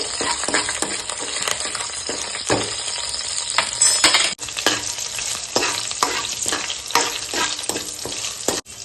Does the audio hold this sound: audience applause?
no